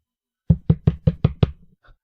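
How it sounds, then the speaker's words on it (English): Knocking on a door, six quick, evenly spaced raps in a steady run, close and solid, then a faint soft tap before silence. "I'll just knock on the door."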